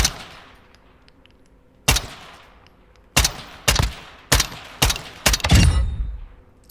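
A KAC SR-25 rifle fires single loud, sharp shots in Call of Duty MWII, with a long gap after the first and then a quicker uneven series of about six cracks, the last ones running together.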